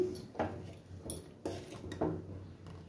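A lid set over a pot of freshly cooked custard, giving a few light metallic clinks and taps spaced through a quiet kitchen, no talking.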